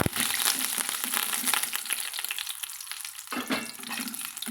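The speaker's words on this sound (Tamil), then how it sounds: "இதை நம்ம வதக்கி விட்டுக்கலாங்க" Mint leaves sautéing with chicken in a pan, giving a continuous close sizzle and crackle with scraping stir strokes that dip briefly midway.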